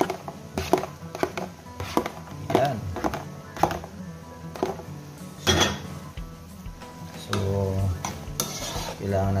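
A utensil stirs seafood pancit in a cooking pan at home, giving repeated close scraping and clattering strokes against the metal in an uneven rhythm, with a faint sizzle underneath.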